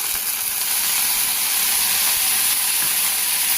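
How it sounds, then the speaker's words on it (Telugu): Ginger garlic paste frying with onions for tomato curry, a loud, even, close hiss of sizzling oil that holds steady throughout without pause. "సో ఈ అల్లం వెల్లుల్లి పేస్ట్ పచ్చివాసన పోయేంత వరకు వేయించుకోవాలి."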